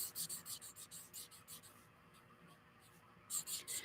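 A chisel-tip marker coloring a large area on paper, giving rapid rhythmic scratchy back-and-forth strokes, close and soft, with a brief pause before the strokes resume.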